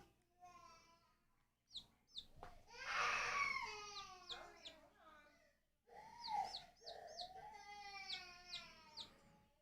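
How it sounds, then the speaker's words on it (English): A fluffy black chicken vocalizes in a series of high, wavering cries and clucks, some sounding almost like an infant crying, close and fairly loud, with breathy noise and a brief pause midway. "No, it's a chicken."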